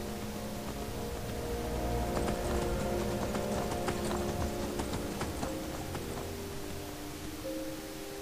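Horse hooves clip-clop steadily in the Skyrim video game as the rider travels along, a rhythmic run of hoofbeats over a continuous droning game ambience, no voices.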